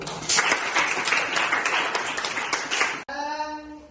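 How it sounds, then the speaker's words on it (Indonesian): An Indonesian school class claps during a lesson on fantasy stories, with brisk, dense applause lasting about three seconds before it cuts off abruptly and a voice follows. "Tepuk tangan dulu."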